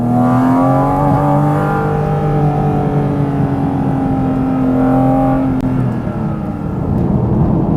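A 2023 Porsche 718 Cayman GT4 RS pulling out of a tight hairpin from low revs, its engine note climbing steadily in a loud, sustained, rising drone heard from inside the car.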